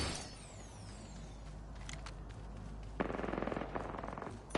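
Automatic gunfire in the video game Apex Legends, a steady rattling burst of rapid shots near the end following a busy stretch of mechanical game ambience and distant cracks.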